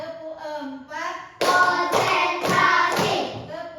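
Schoolchildren in a classroom clap along with their teacher's counting clap routine, answering with a few sharp group claps in a rhythmic burst after a brief voice at the start.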